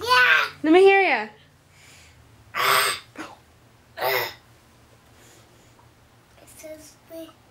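A young boy makes pretend burping sounds, a few short throaty bursts spaced apart amid brief speech at a household recording.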